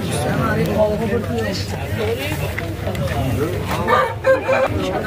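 Roosters crow at a busy poultry market, several long drawn-out calls and clucks rising over a steady crowd murmur with people talking throughout.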